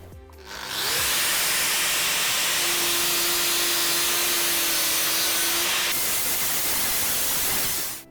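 A fiber disc and a grinding disc grind a metal surface in one loud, steady, hissing roar. The sound holds for several seconds with a faint tone running through it, then cuts off at the end.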